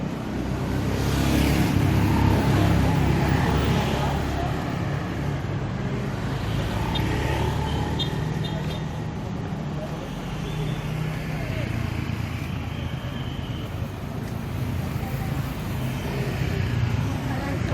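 Motorcycles and scooters crowd a street in Ubud, Bali, with a continuous drone of engines passing near and far and swelling at times, while a person talks throughout.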